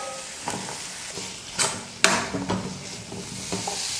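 Grated coconut and tomatoes sautéed in a pan for brinjal kuzhambu, with a spatula scraping and stirring in several distinct strokes over a soft sizzle, close and moderately loud.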